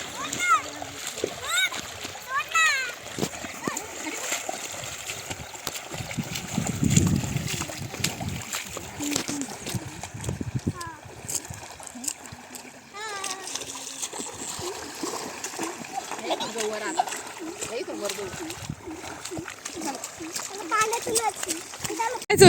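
Water splashes and sloshes as feet wade through shallow water in a farm field after unseasonal rain, with people talking over it throughout.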